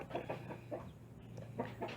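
Bangkok chicken chicks cluck in short, repeated bursts at close range, several calls spread unevenly over a low, steady background hum.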